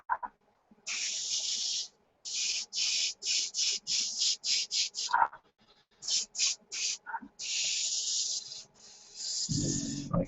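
An airbrush sprays paint onto a 1/72 scale SU-34 model in short hissing bursts of varying length with gaps between them, close and fairly clear, with a low voice briefly heard at the end.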